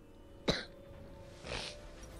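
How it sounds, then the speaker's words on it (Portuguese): Two coughs, one sharp and one softer about a second later, are heard faintly against a quiet background hum. "eu tô tossindo muito"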